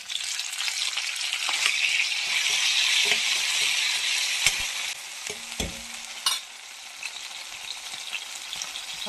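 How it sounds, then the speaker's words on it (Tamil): Shallots, garlic and ginger sauté in hot oil in a kadai, a loud, hissing sizzle for several seconds that then quietens, leaving scattered spatula taps and clinks close by, with nobody speaking. "எண்ணெய் காஞ்சதும் சின்ன வெங்காயம், பூண்டு, இஞ்சி போட்டு வதக்கிக்கோங்க."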